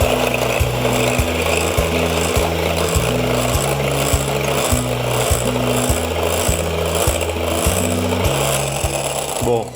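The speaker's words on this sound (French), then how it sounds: "je suis dans la version flemmarde avec le fouet électrique" An electric whisk beats eggs and sugar in a bowl with a steady motor whir and rhythmic scraping pulses, close and loud throughout.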